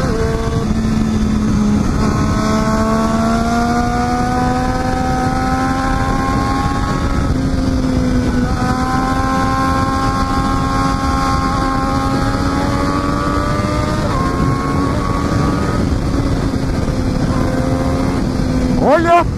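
A 2014 Triumph Daytona 675 R sport motorcycle engine drones steadily while riding, its pitch climbing through gears and dropping at shifts, loud and close with wind rush throughout.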